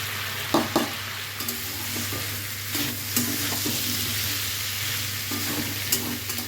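Spices, ginger paste and green chili sauté in a pan with a constant soft sizzle, broken by light spatula clicks and scrapes at irregular moments.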